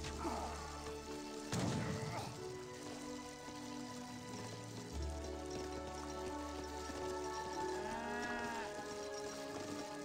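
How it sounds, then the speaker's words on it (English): Cattle in Age of Empires 3 low and moo in drawn-out calls, one near the start and another around the middle, over steady rain-like game ambience and faint music. "You can probably eat the mostly fattened cows now."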